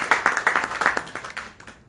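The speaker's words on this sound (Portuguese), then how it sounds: "pediu um salve de palmas para a geração" A small group claps for a football federation's executive committee at a Guinea-Bissau gathering, with brisk close handclaps that fade out over two seconds.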